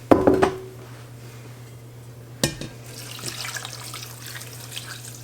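Water runs from a tap into a pot of vegetables for turkey bone broth after a few clunks at the start, a steady close hiss with a brief knock partway through and no talking.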